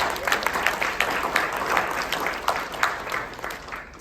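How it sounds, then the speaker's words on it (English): Church congregation clapping during a worship service, a rhythmic pulse of many hands beating together steadily, moderately loud and fading slightly toward the end. "If you want to join in clapping."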